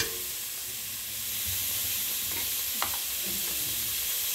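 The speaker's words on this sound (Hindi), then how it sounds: "सबसे पहले मैं प्याज डालती हूँ, ठीक है, चलें इसको ना मैं घी डालती हूँ" Onions frying in ghee in a pot for a mixed vegetable curry of potato, carrot, peas and fenugreek, giving a broad, even hiss that swells slightly midway, with faint stirring and one small click.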